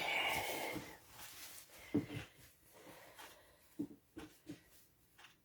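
A person blows their nose in a long, wet, noisy blast, followed by a few short snorts and sniffs at close range.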